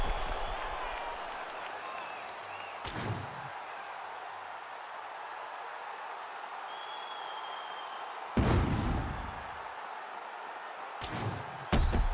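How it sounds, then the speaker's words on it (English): An arena crowd cheers and applauds at the finish of a 25-minute fight, a steady loud wash of clapping and roar with a few sharp thumps breaking through. "Stand and cheer, ladies and gentlemen"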